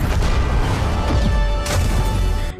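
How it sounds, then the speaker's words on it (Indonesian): A loud, dense rumbling blast from clashing powers in an animated fantasy series, with crackling debris, sustained and heavy throughout and then cutting off abruptly at the end. "bentrok kekuatan itu pun menghasilkan ledakan yang cukup menggelegar"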